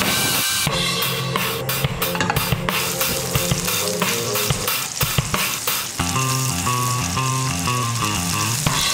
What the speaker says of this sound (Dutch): een beetje olie in de pan